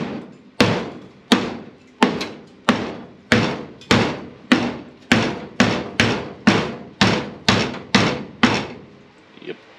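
A hand hammer knocks a dent out of a 1955 car's steel quarter panel with about fourteen sharp, evenly spaced metallic blows, each ringing briefly before the next, close and loud with no talking.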